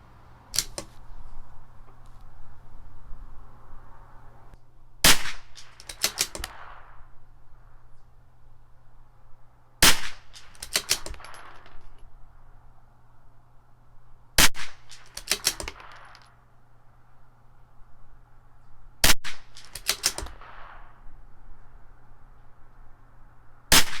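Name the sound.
CZ 457 rifle shots firing a 5-shot group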